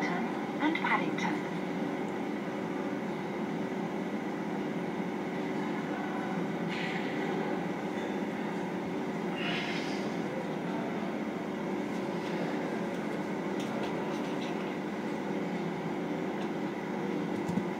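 A metro train in the video game Metro Simulator rumbles steadily throughout, a continuous moderate drone of running wheels on track with occasional faint squeals and clatter.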